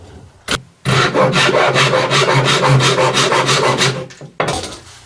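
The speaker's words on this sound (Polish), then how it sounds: "najpierw będę ciął piłą japońską, czyli będę, gdzie cięcie odbywa się poprzez ciągnięcie do siebie" A Japanese pull saw rasps steadily through wood in rapid, even strokes for several seconds, loud and close, then stops with a brief scrape.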